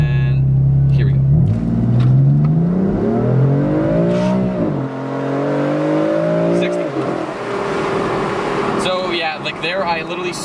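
A BMW M4 or stage 3 WRX launches hard on a dry road, engine note climbing through gear shifts with rising, falling harmonic sweeps, loud and close throughout, wheels spinning up to speed, with some talk over it.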